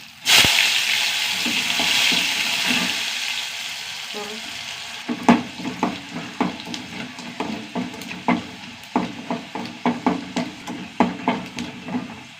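Whole coriander seeds roast in a pan, an initial hissy sizzle giving way to a run of sharp rhythmic scrapes and knocks of stirring, close and fairly loud.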